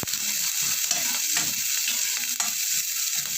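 A dish sizzles and fries steadily in a pan, a constant crackling hiss with occasional soft stirring clunks, close and alone.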